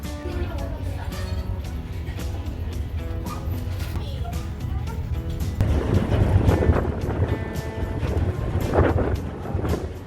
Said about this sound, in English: people that live on the islands will use these ferry boats to get from the mainland back to the island